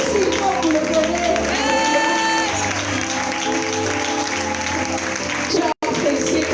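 Crowd applause and cheering fill a conference plenary hall, a dense wash of clapping with raised voices, broken by a brief dropout near the end.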